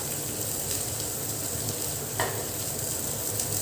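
Grated radish sautés in a pan for a radish chutney, a steady close sizzle and stirring hiss with one quick scrape of a utensil, no speech.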